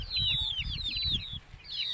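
Young chicks on a backyard farm peeping in a rapid run of high descending chirps, close and fairly loud, with soft rustling and low thumps beneath.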